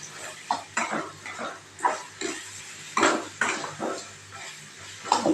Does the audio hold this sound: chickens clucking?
no